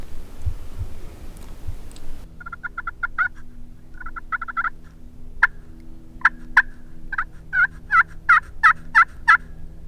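Wild turkey gobbling from a distance on Florida public land at evening roost, a series of sharp rattling gobbles that repeat and grow louder toward the end, heard over a steady low hum and background noise.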